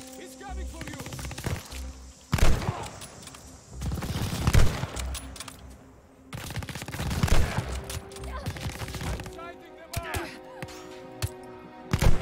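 Gunfire in Call of Duty Vanguard's Lady Nightingale mission, with repeated bursts of shots in irregular clusters, some loud and close, separated by quieter gaps.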